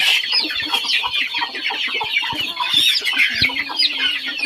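Village free-range chickens raised for sale fill the air with dense, overlapping clucking and scattered calls, a rooster crowing among them, steady and fairly close with no talk.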